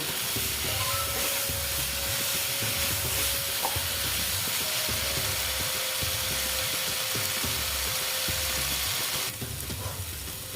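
Potatoes and cauliflower fry with salt in a pan for a Govindobhog rice and cauliflower dish, giving a steady, close sizzling hiss with soft stirring scrapes and a faint constant hum throughout. No one speaks.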